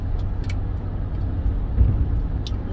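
A car passes on a quiet road, a steady low rumble of tyres and engine heard from inside or near a vehicle, with a few faint high clicks along the way.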